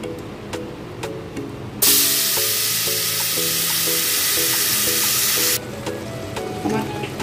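A paste of ground tomato, green chili, ginger and garlic fries in a pan for a chicken liver, stomach and feet curry, with light tapping and stirring and then a long, loud, steady hiss in the middle before the sizzle settles back down.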